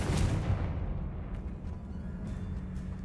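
Confringo and Bombarda blasting spells go off in a Hogwarts wizard video game: a heavy, rumbling explosion bursts at the start and rolls away into a deep, fading boom with faint crackling debris.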